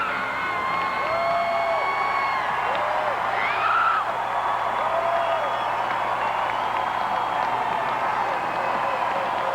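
A large Minnesota crowd cheers and applauds for Fritz Mondale on an election night, a continuous roar of clapping and whoops with scattered shouts rising above it.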